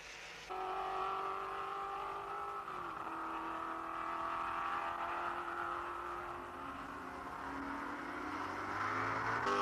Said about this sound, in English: The cars are moving through the rain, and it makes it feel as if there's mist everywhere.